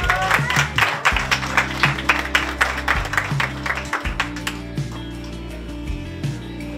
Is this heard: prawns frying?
no